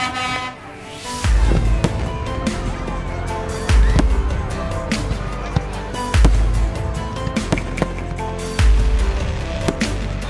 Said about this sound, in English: See some fireworks.